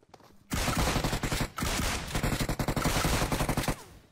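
Rapid bursts of gunfire from the mobile video game PUBG Mobile, dense automatic fire starting abruptly after a quiet moment and continuing loud and close with brief breaks.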